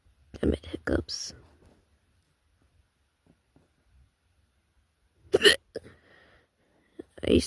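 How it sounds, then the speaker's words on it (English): Hiccups: a few short, sharp, close bursts separated by long stretches of near silence, with occasional quiet vocal sounds around them. "Damn it, hiccups."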